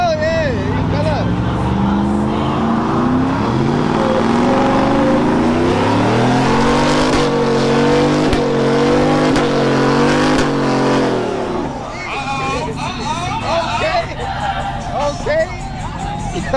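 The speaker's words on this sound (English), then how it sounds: "If you can spin them tires down there one at a time, spin them one time and let it roll." Lifted pickup truck at a truck show doing a burnout, engine revving hard and rising in pitch with tires spinning, loud and close under crowd chatter, then dropping off to an idle with people talking.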